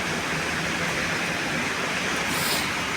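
A dense, steady roar of heavy rain in Hong Kong, unbroken and loud, with no voices.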